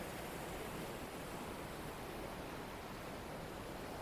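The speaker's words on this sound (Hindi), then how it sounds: "सबसे पहले तो मैं अपनी नदी दिखा देती हूँ। देखो कितना पानी बढ़ा हुआ आजकल" A swollen village river in the Himachal hills rushes steadily with rainy-season water, a dense, constant broadband roar with no pauses, heard fairly close and alone.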